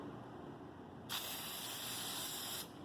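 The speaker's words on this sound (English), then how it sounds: "you want to spray a light amount on both sides" A steady aerosol spray of oil onto a Waverunner personal watercraft air filter hisses for about a second and a half, close and fairly loud, then cuts off.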